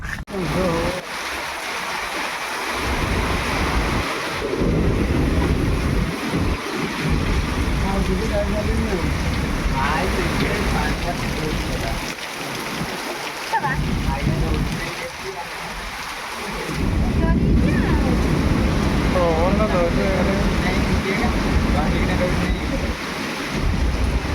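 A nor'wester storm lashes down with heavy rain and gusting wind, a dense, steady roar that surges louder in waves, with wind buffeting the microphone and voices talking faintly beneath it.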